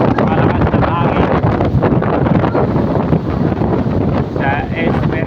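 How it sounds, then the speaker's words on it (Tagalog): Strong wind buffets the microphone outdoors at a coconut farm, a loud, continuous rumbling roar with gusty surges throughout. "Malakas na hangin."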